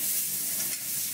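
A thick filet mignon steak sears in a hot cast iron pan with a dense, steady sizzle that holds at an even level throughout, with no talking.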